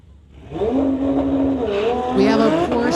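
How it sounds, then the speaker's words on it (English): A Porsche and a 2018 Chevy launch at a drag strip, engines swelling from a low start into a loud, sustained rising roar with tire noise, while an announcer speaks over it. "We have a Porsche in the TCS lane going against Robert McLean from Burnaby in his 2018 Chevy's on the brake"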